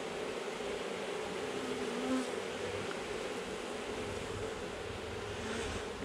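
Honey bees buzz at an opened hive while queen cells are removed from the parent colony, a steady dense hum that stays even and moderately loud throughout, with no talk.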